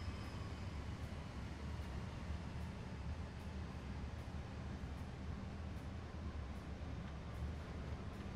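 A train on the Cane Creek route in a train-driving video game: a low, steady rumble runs throughout, faint and even, with soft clicks repeating at regular intervals and no voices.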